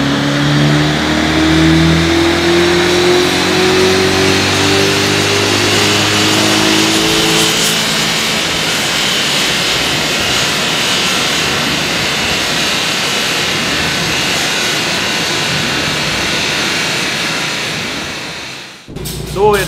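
A BMW Alpina B6 revving hard on a dyno during a power run, a loud sustained engine roar with rising harmonics early on, then a steady high-rpm drone before it cuts off near the end.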